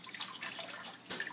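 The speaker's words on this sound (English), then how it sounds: "Once you are done with the pumice and the brush, you have to wash your crown from the pumice." Running water from a tap streams over a small dental acrylic crown as pumice is rinsed off, a steady splashing hiss with a brief louder surge near the end.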